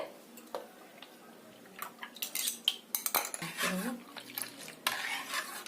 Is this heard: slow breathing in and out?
no